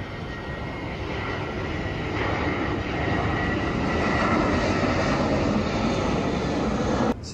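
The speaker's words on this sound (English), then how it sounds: "So there's the Washington DC flight." A passenger airplane flies over Atlanta, its engines producing a broad, steady roar that swells slightly as it passes overhead and holds for about seven seconds before a sudden cut.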